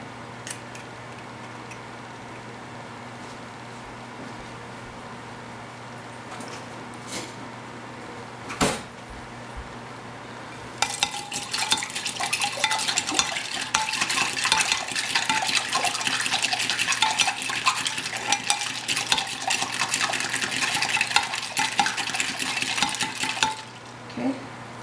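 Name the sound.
egg cracked into water for tempura batter, mixed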